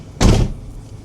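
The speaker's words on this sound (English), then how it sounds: "Close the door." A Sprinter campervan door shuts once with a single loud, close thud, followed by a short fading rumble and quiet interior background.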